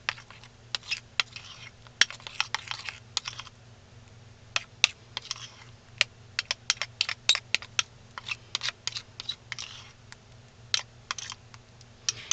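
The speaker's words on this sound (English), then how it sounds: "Make sure you mix it up real good." A runny mixture stirred in a container close by, with a steady run of sharp clicks, taps and scrapes as the utensil knocks against the sides, and no talking.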